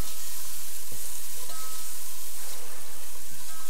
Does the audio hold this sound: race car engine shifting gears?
no